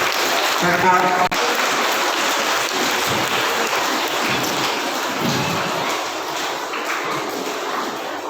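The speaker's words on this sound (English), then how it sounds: "Please give a big round of applause honoring" A school audience keeps up a dense, steady wash of clapping for the head boy at a student council oath ceremony, with a speaking voice underneath and the applause easing slightly toward the end.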